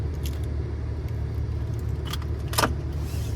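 Key fob of a 2014 Maserati Ghibli S Q4 being handled inside the car, a few brief jangling clicks over a low steady engine rumble, close and fairly quiet.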